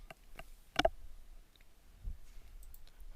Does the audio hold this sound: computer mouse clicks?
yes